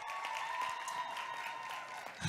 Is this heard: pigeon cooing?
no